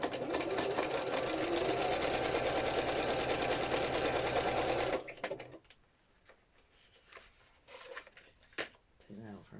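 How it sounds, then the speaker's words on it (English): Sewing machine stitching at speed, a loud, fast mechanical whirring rattle lasting about five seconds before it stops, followed by quieter handling noises and a voice speaking nearby. "Sewing machines work much better when they've got thread in the bobbin."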